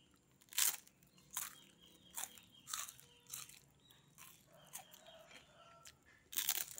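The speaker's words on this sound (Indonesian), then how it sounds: "Opak ini nggak dimakan, tetapi ada suara kriuk-kriuk loh." Crisp, brittle crunches of opak, Indonesian cassava crackers, come as several separate sharp bursts spaced about a second apart, close and fairly loud against a quiet background with no talking.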